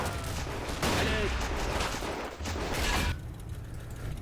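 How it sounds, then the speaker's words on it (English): Sustained bursts of machine gun fire rattle across a World War One trench battle in a video game, dense rapid shots running loud for about three seconds before the fire drops away. "Let's bring another machine gun on."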